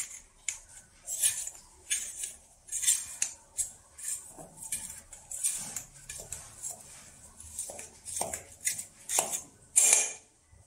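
A metal spoon scrapes and clinks against a pan while loosening a homemade carrot cake, in a rhythmic series of sharp, bright scraping strokes with short pauses between.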